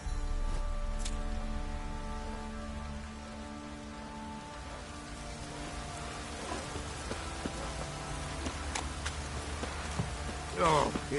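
Light drizzling rain in The Witcher 3 patters steadily as a soft, continuous hiss, with game voices speaking over it near the end.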